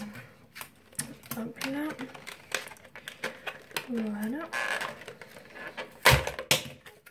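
Cardboard packaging for L'Oréal Infaillible Total Cover foundation is opened by hand, with crisp tapping, scraping and crinkling and a sharp tear near the end, under a woman's close speech.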